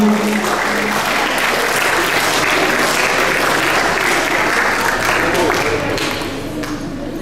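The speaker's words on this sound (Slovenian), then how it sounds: "en aplavz, prosim" Applause from a large school audience at a bicycle safety project event, steady dense clapping throughout, loud and close, with a brief voice at the start.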